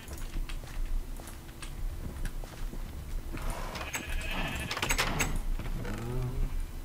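Minecraft sheep bleat in wavering calls over a steady low game background, with a few clicks and footstep-like taps around them.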